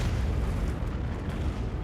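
Animated torpedo strike on the Japanese destroyer Urakaze in 1944, a continuous deep rumbling detonation roar that stays loud and heavy throughout with no pauses.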